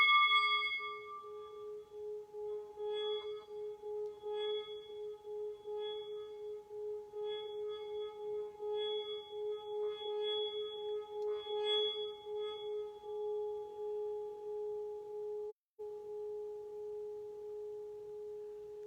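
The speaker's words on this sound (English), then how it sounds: "There's something very healing about the sounds of the Tibetan singing bowls." Tibetan singing bowls ring out with a steady, pure sustained tone, struck again several times so bright overtones bloom and fade over a long, slowly pulsing hum, with no voices.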